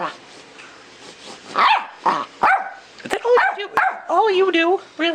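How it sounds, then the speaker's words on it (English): A big dog barking, several loud close barks and yips with growly tones, interleaved with a person talking. "Oh, a big dog just went by."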